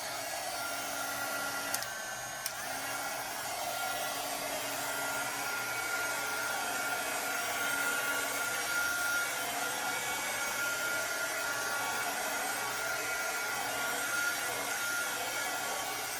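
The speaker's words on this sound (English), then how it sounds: "Now this is just an embossing gun that heats up at the end" An embossing heat gun blows steadily and close for the whole stretch, a continuous hot-air whir as it heats acrylic pour paint, with no talking.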